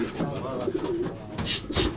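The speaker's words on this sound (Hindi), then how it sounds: "फिरक कबूतर है हमारे।" Firak pigeons, a fast-flying breed, coo in a low, steady murmur, with several soft rolling calls overlapping and bursts of rustling or flapping near the end.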